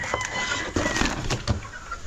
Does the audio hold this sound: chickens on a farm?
yes